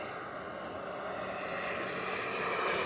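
An RC Boomerang Ranger model jet powered by a Swiwin 120 turbine sits on a runway, giving a steady, fairly distant turbine whine and roar that holds level and swells slightly toward the end, with no talking.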